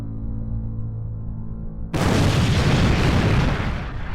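A low droning hum abruptly gives way to a huge, roaring explosion that rumbles on loudly as a sustained, rolling blast.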